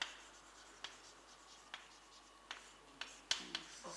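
Chalk or marker tapping and scratching on a board while a theorem is written out in a lecture room, with sharp irregular strokes and clicks over a quiet background.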